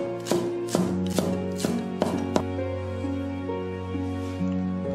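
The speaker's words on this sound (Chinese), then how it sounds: "切点葱花" A knife chops scallions on a cutting board: six crisp, evenly spaced blade strikes in the first half, then a steady background hum with no talk.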